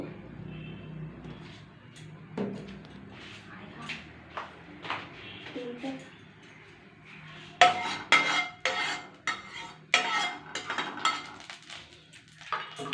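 A metal wok and utensils clink and scrape on a kitchen stove while Maggi noodles are cooked with oil, onion and chilli, in scattered light knocks that grow busier and sharper in the second half, with a voice talking over them.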